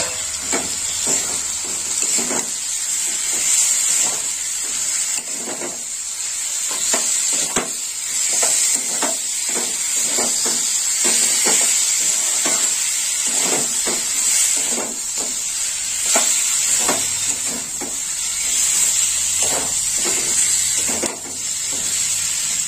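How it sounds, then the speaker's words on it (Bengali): Potatoes tumbling into spice paste frying in a pan for a potato and pointed gourd curry, giving a loud, steady sizzle with a constant bright hiss and scattered crackles and scraping stirs throughout. "এবার আমি আলুটা দিয়ে দেবো।"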